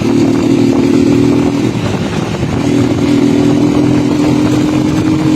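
A Rusi motorcycle engine on a road test runs loud and close with a rough, uneven drone that dips briefly midway as it misfires, alone without talk.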